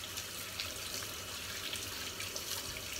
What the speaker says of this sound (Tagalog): Hugasan lang natin ng ating kasaba.